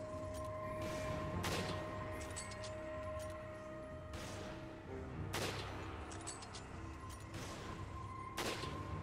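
Sniper rifle and shotgun fire in the co-op video game Resident Evil 5 cracks out as several loud, sharp shots a few seconds apart. A constant game soundscape hums underneath, and no one speaks.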